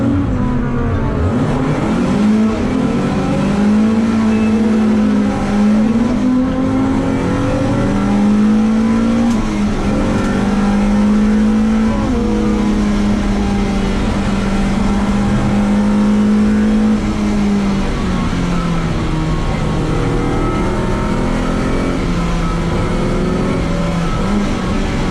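Several BMW E30 M3 race cars in a pre-93 touring car race at Cadwell Park, engines revving hard and holding a loud, steady high drone with pitch rising and falling through gear changes, unbroken for the whole stretch without talk.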